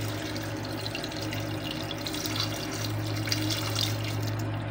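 Water pours into a cooking pot holding pieces of fish being prepared with lemon, a steady, soft splashing flow over a low background hum, fairly faint and without any talking.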